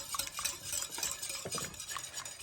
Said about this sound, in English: in this beautiful Pyrex bowl, I've got my egg that I'm going to beat up